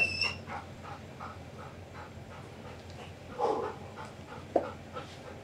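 A police dog panting steadily at close range, with a few whimpers and brief yelps rising above the rhythmic breathing.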